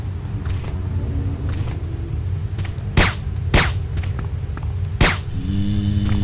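Gunshots in the video game Resident Evil: Dead Aim: three sharp, loud reports spaced about half a second to two seconds apart over a low rumbling game ambience, with no talking.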